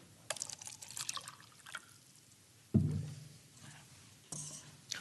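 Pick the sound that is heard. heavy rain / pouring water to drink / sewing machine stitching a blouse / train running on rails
pouring water to drink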